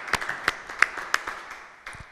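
Sparse clapping from a small audience at a Christmas theatre show, encouraging a child about to recite a poem, with a handful of distinct claps spread across about two seconds and fading out.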